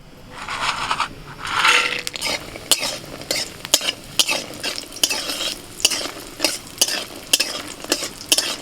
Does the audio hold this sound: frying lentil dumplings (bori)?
yes